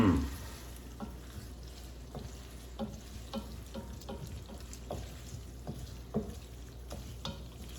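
Linguine tossed in a pan with extra virgin olive oil, a steady soft sizzle under a regular series of stirring scrapes and light knocks, close and fairly quiet, no talking.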